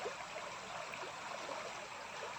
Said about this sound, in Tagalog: Tanging agos lang maririnig mo eh. Agos ng tubig eh.